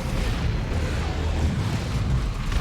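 An orbital bombardment in Warhammer 40,000: Dawn of War 2 rains down as a dense, continuous roar of loud, rumbling explosions, booming heavily without pause and with no voices over it.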